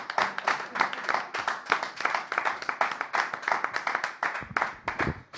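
A church congregation claps and applauds together in a dense, continuous burst of hand claps, fairly close and full for several seconds, with a faint voice underneath.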